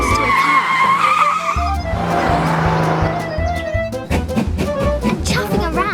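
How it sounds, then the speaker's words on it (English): A toy car in a cartoon zooms about with rising engine whine, then skids and squeals, loud and busy with layered effects and music-like tones, no speech heard. "He loves zooming about in Jason's toy car."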